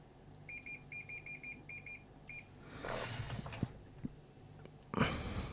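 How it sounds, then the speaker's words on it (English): Intermittent electronic beeps from a multimeter continuity test on a bicycle light, in short rapid bursts that stop after about two seconds, followed by handling and rustling noises and a louder clunk near the end. "Well, that's beeping."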